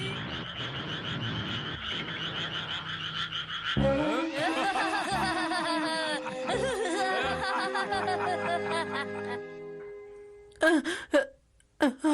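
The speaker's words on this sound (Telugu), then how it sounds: "కప్పలు," Cartoon frogs croak in a lively chorus in the Telugu-dubbed Ninja Hattori animated movie, with rhythmic, tonal croaks filling the scene before giving way to a few short, sharp bursts at the end.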